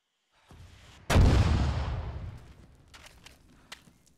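In a military video game, a rocket fires with a sharp, loud blast after a faint lead-in, then a long rumbling boom that fades over a few seconds, with a few distant cracks trailing after.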